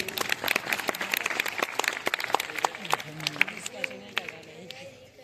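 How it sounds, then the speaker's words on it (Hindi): A school audience at a debate competition and award event claps for someone speaker, a dense burst of hand claps filling the room before thinning out, with voices and crowd chatter mixed in toward the end. "एक बार ताली बजाएं बच्चे के लिए"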